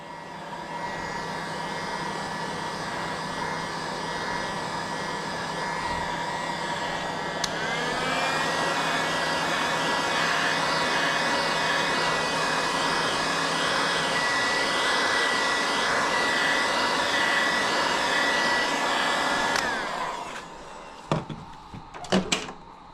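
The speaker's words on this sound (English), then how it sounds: "We're just warming up these tails now with the heat gun." A heat gun warms soft plastic lure tails with a steady loud whirring blower roar that holds for about twenty seconds, shifts slightly in pitch partway through, then cuts off into a few clunks and clicks.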